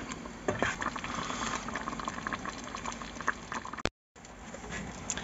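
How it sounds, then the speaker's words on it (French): Homemade plum jam with cinnamon poured from a saucepan into two jam jars, a soft wet gloopy pouring and spattering, faint and close, with a brief dropout near the end. "j'ai juste vidé la casserole dans les 2 verres à confiture"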